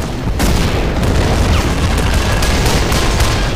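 A loud explosion in a World War II battle game set at Küstrin, a sharp blast followed by a continuous heavy roar of rumbling and crackling gunfire-like bursts, dense and near.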